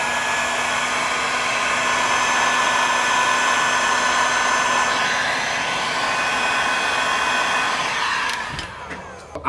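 Heat gun blowing hot air onto heat shrink tubing over LED strip wiring, a steady close whooshing roar that holds for about eight seconds and then cuts off near the end.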